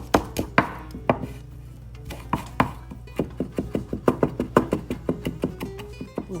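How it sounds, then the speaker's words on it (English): A knife chops a hot cayenne pepper on a board in a steady run of close, crisp knocks, quick and uneven at first, then settling into a regular rhythm. "also cut up some of this pepper. It's a hot cayenne pepper"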